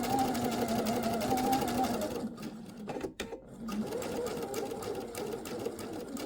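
A sewing machine stitches fabric for a faux welt pocket seam, running steadily, then pausing briefly for a turn before resuming its fast, even whir.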